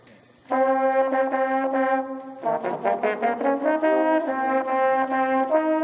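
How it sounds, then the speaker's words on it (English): Mellophones play a bright brass marching band part in unison, holding sustained notes, then a quick run of short accented notes before returning to long tones. "first is our mellophones, marching French horns, and their part sounds like this"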